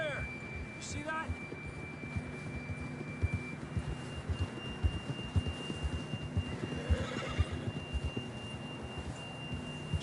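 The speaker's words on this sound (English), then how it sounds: "John was riding that horse when we left Blackwater." A horse whinnies briefly near the start, followed by steady hoofbeat-like thumps and a constant tonal hum throughout, with faint ambience in Red Dead Redemption 2.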